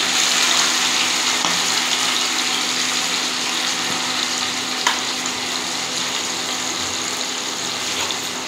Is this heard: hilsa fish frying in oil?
yes